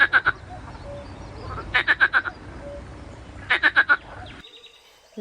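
A frog croaks in three close, loud bursts, each a quick run of four or five rattling croaks, separated by pauses with faint background noise.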